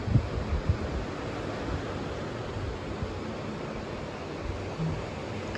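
Surf rolls steadily onto the white-sand beach at Varadero, Cuba, on a rough December evening, short strong waves making a continuous broad wash mixed with wind noise, with no distinct separate breakers.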